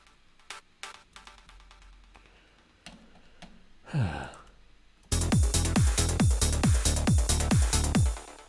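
After some quiet clicks, a loud electronic synth chord stab repeats in a fast, even rhythm, each hit sweeping down sharply in pitch.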